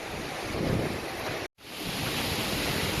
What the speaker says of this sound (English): We got the roaring creek and then the other side of the narrows.